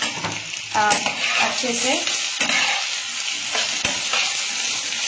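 Washed, dried potato pieces fry and sizzle in a pan while being stirred, a steady close hiss with stirring scrapes, with a voice speaking briefly over it.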